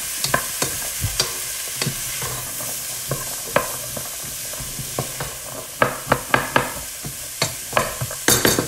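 Ingredients sauté in avocado oil in a pot for chicken soup, a steady soft sizzle broken by repeated clicks and scrapes of a utensil stirring, growing busier toward the end.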